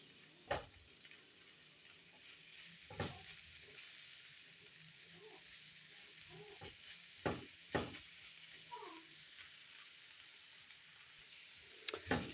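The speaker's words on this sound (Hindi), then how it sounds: "यहाँ पे हमारी सब्ज़ियाँ अच्छी तरह सौते हो गई हैं।" Vegetables sauté quietly in a pan with a soft, continuous sizzle, broken by several sharp clinks and taps of a utensil against the pan.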